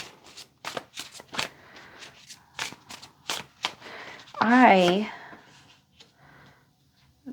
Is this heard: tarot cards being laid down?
yes